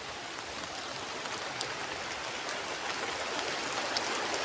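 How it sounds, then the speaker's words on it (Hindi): Heavy rain pours steadily in a village under a fully clouded sky, a dense, even hiss of falling water heard from shelter beneath a palm tree. "दोस्तों पानी गिर रहा है, हम लोग तोड़ते तोड़ते बहुत ज़्यादा पानी गिरने लगा"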